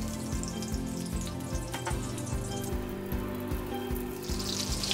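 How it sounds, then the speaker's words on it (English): Olive oil and unsalted butter melt in a nonstick skillet over medium heat, giving a soft, steady sizzle and bubbling crackle with faint rhythmic pulses, close and quiet with no talking. "add 1 tablespoon of olive oil and 2 tablespoons of unsalted butter and let it melt"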